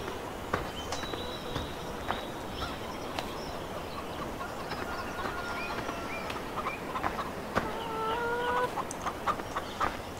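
Chickens and a rooster clucking in the farm game Farming Simulator 15, a steady busy layer of poultry calls with chirpy bird-like tones and faint footsteps throughout, no talking.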